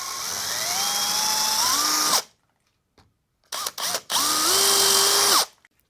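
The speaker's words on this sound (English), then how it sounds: "I'm just going to drill this out over on the old doofer" A power drill whines as it bores out a screw hole in a part held in a vise while rebuilding a Frankenstrat-style guitar, a long rising whir, silence, a few short blips, then another sustained run.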